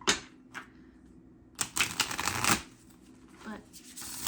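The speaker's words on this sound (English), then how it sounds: "I'll just shuffle it" A deck of tarot cards is shuffled by hand in quick riffling bursts, the crisp flutter of cards close and loud, with a pause between rounds.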